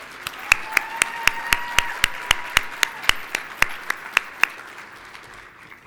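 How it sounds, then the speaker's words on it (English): Applause from a conference audience at a closing session, starting loose and building into a steady round of clapping, with about eighteen sharp, evenly spaced louder claps standing out on top. Faint tones sit underneath, and it fades out near the end. "Let's give Dr. Coffin another round of applause."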